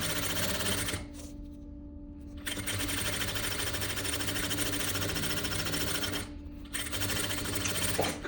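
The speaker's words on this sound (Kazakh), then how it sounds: "Сөйтіп төмен жағынан тігіс түсіріп шығамыз." A sewing machine stitches a seam along the hem of a vest, running loud and close in long continuous bursts broken by two short pauses.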